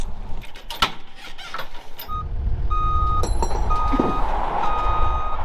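A heavy machine being unloaded from a trailer gives steady, evenly spaced reversing beeps over a low diesel engine rumble, after a stretch of clanks and knocks.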